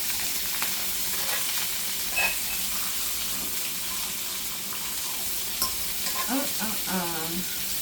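Onions frying in a pan for a pot roast meal, a steady soft sizzle with occasional stirring clinks and scrapes, no talking over it.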